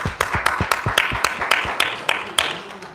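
A church congregation clapping during a Sunday sermon, a loud rhythmic clap in steady unison beats about every quarter second, close and without talk.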